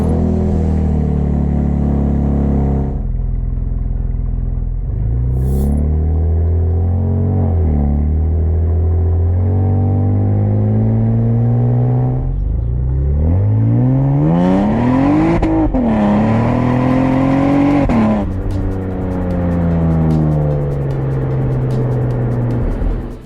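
Exhaust of a 2014+ Cadillac CTS fitted with two parallel resonators, a deep rumbling idle rising into several loud revs that swell and fall back, close and alone.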